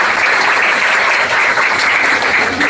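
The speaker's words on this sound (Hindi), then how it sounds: "भैया के एक बार ताली बजाइए मायाशंकर सर" A crowd at an institute's felicitation ceremony claps in a loud, dense burst of applause that runs steadily throughout.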